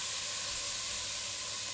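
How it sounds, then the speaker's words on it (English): Chickpeas sizzle in a hot pan with spices, a steady, faint hiss of frying that runs unbroken and alone with no voices. "It's gonna sizzle. I want it to sizzle."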